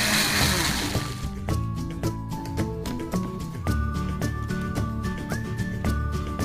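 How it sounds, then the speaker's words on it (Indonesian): A kitchen blender runs steadily, whirring and churning a telor gabus keju dough mixture. The motor holds a loud continuous drone with shifting tones and rattling as the contents move. "Ini nggak usah terlalu lama ngeblendernya, yang penting sampai benar-benar halus"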